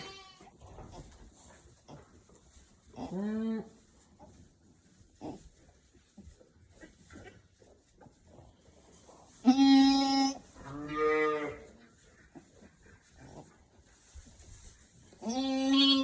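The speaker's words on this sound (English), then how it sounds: "the sounds of goats are not silent like the sheep. They're noisier." Several loud goat bleats, a brief one early then a cluster of long wavering calls, with quiet farmyard rustling between them.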